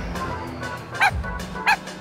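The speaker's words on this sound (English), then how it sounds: "The dog then starts to attack Ginny." A dog in an audio drama gives two short, sharp barks or yips over a low rumbling background, moderately close, with no speech.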